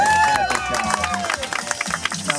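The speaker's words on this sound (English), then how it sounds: "how about a big round of applause there for Wanda?" A tour group on a Gulf Coast Ducks haunted ghost story tour claps for Wanda, a brief scatter of handclaps and cheers close by, with voices and chatter mixed through the applause.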